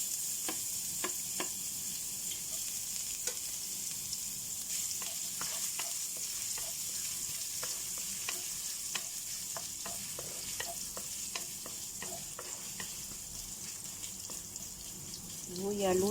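Ginger sizzles steadily in hot oil in a pan, the first step of a shrimp and glass-noodle dish, with scattered clicks of stirring throughout and a brief sound near the end.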